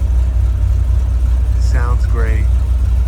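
A 1968 Chevrolet Corvette L79 Roadster V8 engine idles with a steady low rumble throughout, while a person briefly speaks over it partway through.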